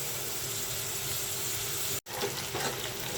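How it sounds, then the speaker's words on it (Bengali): Onion frying in hot oil in a pan for a Bengali prawn curry with small Bogura potatoes: a steady, close, hissing sizzle with faint stirring, briefly cut off for a moment before resuming. "তেলের উপর ভেজে নিচ্ছি।"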